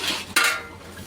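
Ghee and jaggery mixture stirred in a metal pan, giving a brief scrape and clink of a utensil against the pan amid soft rustling, close and moderately quiet.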